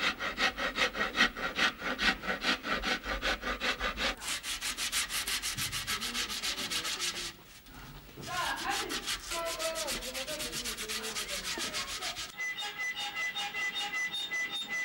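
Steady rhythmic rasping and scraping on a drum's wooden rim as it is worked, like sanding or filing, with repeated strokes and a brief pause midway.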